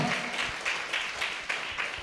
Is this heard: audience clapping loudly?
yes